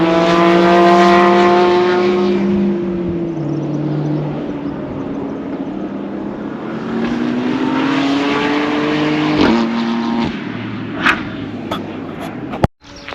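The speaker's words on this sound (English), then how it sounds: "You can see all sorts of cars going around." Racing cars circle the Anglesey circuit at a distance, their engines a steady drone that rises and falls in pitch as they pass, with wind noise and a sharp knock near the end.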